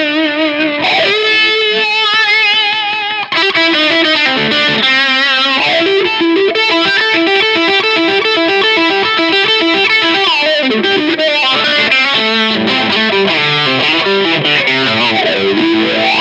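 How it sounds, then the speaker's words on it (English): An electric guitar plays chords and melodic runs through a gritty overdrive tone from a Kernham Ridge overdrive pedal, continuous and prominent with no voices. "I'm going to kick on the Kernham Ridge now, just for some overdriven variations."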